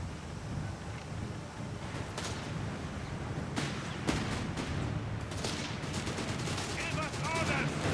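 Called-in artillery and machine gun fire in a Company of Heroes 3 desert battle: a steady roar of distant battle noise punctuated by sharp shots and rapid bursts of gunfire across the whole stretch.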